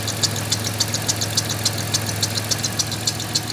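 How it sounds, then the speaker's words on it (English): A 1996 Grand Caravan idling, its engine intake giving a steady low hum under a fast, even ticking that repeats several times a second, close and moderately loud. "I think the only thing I'm hearing is the intake."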